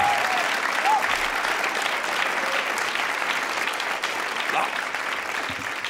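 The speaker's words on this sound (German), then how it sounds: "Vielleicht mal einen großen Applaus für die zauberhafte Band der Querköpfe Show." A live concert audience gives a sustained round of applause for the band, dense steady clapping with a faint whistle or two riding on top for several seconds.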